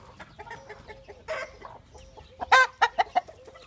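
Chickens cluck and squawk in a short burst of loud, sharp calls near a rural house, with a rooster close by among them; quieter background noise runs underneath.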